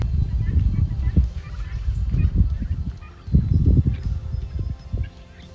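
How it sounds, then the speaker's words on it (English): Several turkeys wandering through a home vegetable garden make repeated close, low gobbling and clucking calls in uneven bursts, with a person talking among them. "My garden is being invaded by turkeys."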